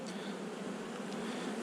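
Honeybees buzz on hive frames in a steady, dense drone. The sound is close and continuous, and no one speaks.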